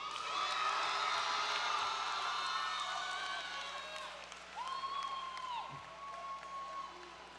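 Commencement crowd applauds graduates at a college ceremony, a broad wash of clapping and cheering with shouts and whistles that gradually thins out.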